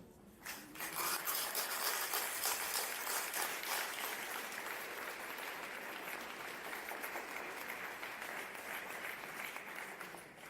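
A conference audience bursts into applause after a talk on popular education, a loud, sustained wash of clapping that starts suddenly and holds steady to the end.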